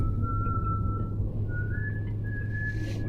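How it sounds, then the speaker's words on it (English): A thin, sustained whistle holding one pitch, then sliding slightly higher, drawn out over a low steady rumble. "The whistling stops."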